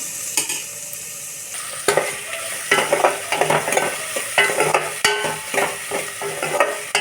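Chicken curry frying in a pan while a ladle stirs it, loud close scraping strokes in an irregular rhythm over a constant sizzle.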